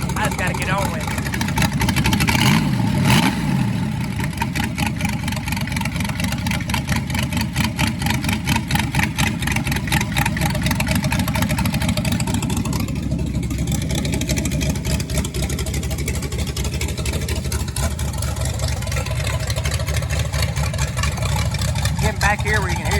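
A rebuilt Ford 289 V8 engine runs steadily on a test stand, its idle a loud, even rumble with rapid regular firing pulses and a slight rise in revs early on.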